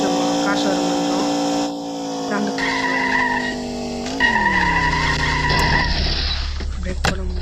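A car in a video game skids and brakes with sustained tire squeal and shifting engine tones, the pitch sliding down as it slows, fairly loud with a voice talking over it.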